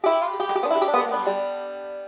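A bright, twangy banjo played with three finger picks rings out in a quick rolling run of picked notes, close and clear, then fades as the strings sustain.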